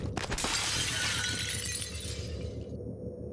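Glass shattering in the video game Prey, a loud sharp crash followed by a long bright spray of falling shards that tapers off over a few seconds, with no voices.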